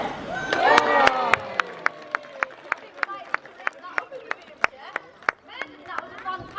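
A crowd at a sea lion show bursts into cheers and claps for the animal's jump, a loud swell of whoops followed by a long run of sharp, scattered claps.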